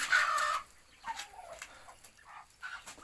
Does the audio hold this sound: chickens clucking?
yes